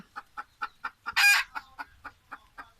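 Kala chickens clucking in a steady, evenly spaced rhythm of short calls, interrupted midway by a brief louder squawk, close by and otherwise quiet.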